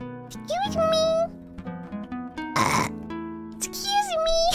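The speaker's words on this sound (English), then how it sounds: "Why did I burp so much?" A young person burps several times while tasting Starbucks coffee drinks, the loud throaty belches breaking up talk and laughter close to the microphone.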